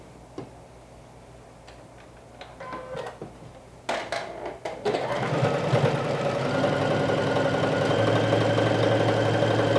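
Sewing machine stitching a knit pocket onto a dress edge, set to a 3 mm stitch length: a quiet start with a few light clicks, then a steady, loud mechanical whir that runs on without a break.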